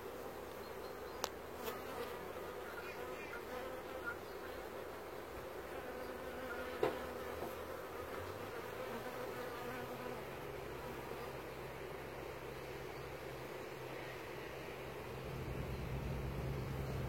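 Honeybees buzzing steadily around hives during a chestnut honey harvest in July, a faint, continuous swarm drone with a few small clicks and a slightly louder swell near the end.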